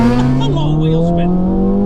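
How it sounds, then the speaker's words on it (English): A Honda Civic Type-R FN2 launches hard with wheel spin, its engine holding a loud, steady rising drone close by for a couple of seconds, with tire noise mixed in. "A lot of wheel spin."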